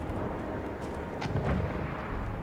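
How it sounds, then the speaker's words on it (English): Battlefield game combat in a ballroom, with a dense rumble of distant explosions and grenade blasts rolling under a steady wash of battle noise, a couple of sharper bursts standing out. "Hell of a lot of explosions and grenades coming through here on this ballroom"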